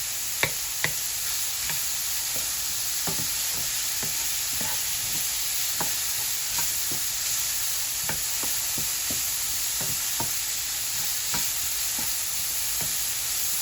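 Mushrooms fry in a little olive oil, a steady close sizzle broken by irregular light taps and scrapes as they are stirred around the pan.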